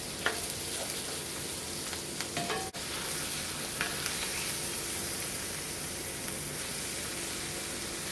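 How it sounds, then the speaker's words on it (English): Spinach sizzles steadily in a skillet as it is stirred into the seasonings left on the bottom, a continuous close frying hiss with a few faint scrapes and clicks throughout. "I'm just going to mix it in here with the seasonings from the bottom of the skillet."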